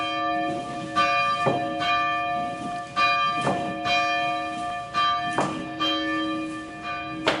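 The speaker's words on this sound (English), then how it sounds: "We still ring it every Sunday morning at 11 o'clock." An old church bell cast by the Bullseye Bell Company in 1893 rings from a steeple, six evenly spaced loud strikes with long ringing overtones that hang between each stroke.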